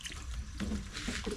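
Water being poured into a pot of sautéed meat, a splashing, trickling pour that comes in short bursts close by, with no talking.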